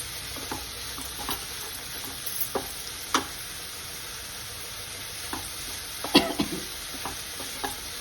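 A ridge gourd and tomato chutney mixture is stirred in a hot pan, with a steady sizzle under repeated scraping and clinking strokes of the spoon, close by and without talk.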